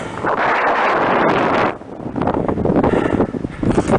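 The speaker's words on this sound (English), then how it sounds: "The wind is so amazing." Strong wind blasting across a mountain ridge above Landslide Lake, roaring and buffeting a nearby microphone in loud continuous gusts with a brief lull partway through and no clear talking.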